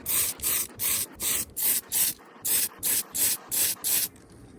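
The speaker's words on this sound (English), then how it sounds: "All right, let's go and spray it." Aerosol spray can lays black paint on a Scout II pickup body in eleven short, even bursts with brief pauses between, close and crisp, no voices.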